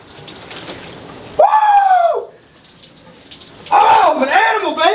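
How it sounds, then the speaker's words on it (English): A cold shower sprays a steady stream of running water, heard as a continuous rush beneath loud shouted vocal exclamations. "God, that was a lovely cold shower, man."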